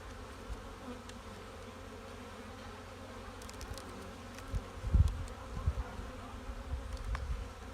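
Honeybees hum at the hive in early spring in a steady, low drone close by, with a few soft knocks and bumps partway through.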